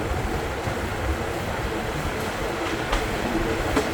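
A passenger train on the Phnom Penh to Kep railway in Cambodia runs with a steady, loud rumble and rattle throughout, with a few brief sharper clanks rising above the constant noise.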